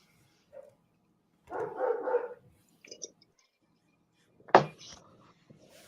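Dogs at home barking in short bursts, a couple of separate yelps and one sharp, louder bark set apart by quiet gaps, fairly close but not loud.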